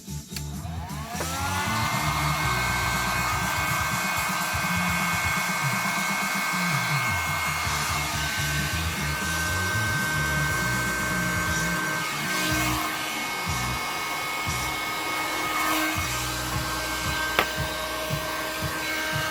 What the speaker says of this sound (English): Now we've got to obviously get the heat gun now on all these three heat shrinks.